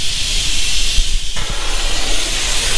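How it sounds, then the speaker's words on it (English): Vacuum bleeding equipment hisses while clutch fluid is drawn from an Audi R8 R-tronic during a clutch replacement, a loud, steady broadband hiss that shifts in tone partway through, with no talking. "We suck fluid because the vacuum is still on."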